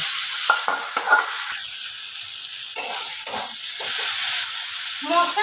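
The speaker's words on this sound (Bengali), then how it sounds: "মশলাটাকে খুব ভালোভাবে আমাদের কষিয়ে নিতে হবে" Chicken masala with ginger garlic paste sautés in a pan, a bright continuous sizzle broken by spatula stirs and scrapes. Faint speech sits in the background.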